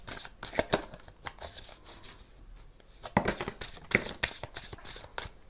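Playing cards being cut and shuffled by hand for a tarot-style reading, with quick soft riffling and tapping bursts, faint and close.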